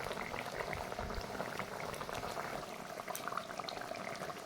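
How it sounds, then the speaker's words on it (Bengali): Pabda fish simmers in mustard curry, a steady, close bubbling and gurgling of boiling liquid that stays even and unbroken throughout, with no voices. "এইভাবে মাছ দেওয়ার পর এইভাবে 5 মিনিট ফুটিয়ে নেব।"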